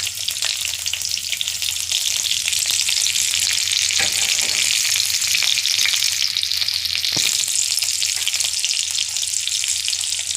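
Onion and green chillies sizzling in hot oil in a pan as a home cook stirs them for a vegetable curry, a loud steady crackling hiss with occasional spoon scrapes.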